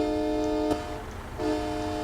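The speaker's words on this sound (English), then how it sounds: "It's a train horn." A train-style air horn on a 2022 Freightliner Cascadia truck in American Truck Simulator sounds a loud, steady multi-tone blast, breaks off briefly, then resumes, over a low engine rumble.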